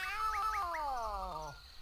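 Gary the snail from the SpongeBob game Battle for Bikini Bottom lets out one drawn-out, wavering cartoon meow, close and clear, over a low game-music background with no talking.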